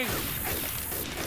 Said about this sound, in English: Reloading here!